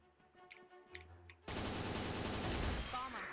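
Gunfire in the Crossfire online shooter game, soft game sounds at first and then a sudden burst of rapid automatic fire that rattles on steadily, loud and continuous, with faint voices in the background.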